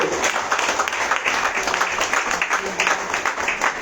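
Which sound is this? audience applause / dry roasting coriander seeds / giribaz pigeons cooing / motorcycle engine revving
audience applause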